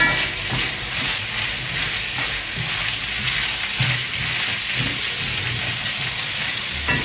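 Nigerian fried rice ingredients sizzle loudly in a pan on the highest heat, a steady, dense crackling hiss with occasional stirring scrapes, no talking.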